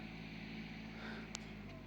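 Tractor fitted with a homemade hitch cultivates rows in a hazelnut orchard, its engine a steady low drone heard at a distance with faint wind noise and one brief click.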